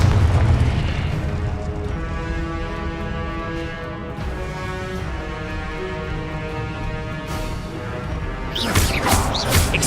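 Confringo fire spell blasts in Hogwarts Legacy, a loud booming explosion at the start that rolls into a long sustained roar with tonal hum, then fresh crackling bursts near the end.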